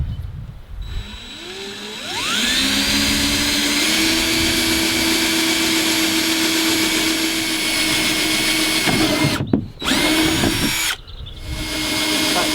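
Power drill boring a hole for a canoe's kneeling thwart, the motor whining up and running steadily under load with two brief stops and restarts near the end.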